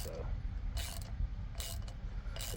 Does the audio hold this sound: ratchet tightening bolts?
yes